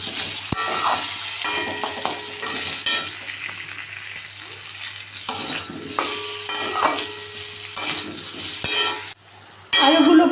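Potatoes sizzle loudly in hot oil in a pan while being stirred with salt added, with scraping and clinking of a utensil against the pan, close up and without talk.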